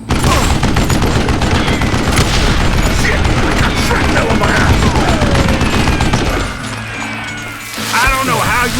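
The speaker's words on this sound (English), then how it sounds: "Goddamn bullets!" Rapid gunfire in the Western shooter game Call of Juarez Gunslinger, a dense barrage of loud overlapping shots and booms that drops briefly near the end before a final burst, with voices mixed in.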